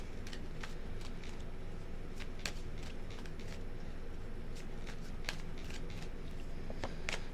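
Tarot cards are shuffled quietly in a series of soft riffling bursts and light flicks, close but faint over low room noise.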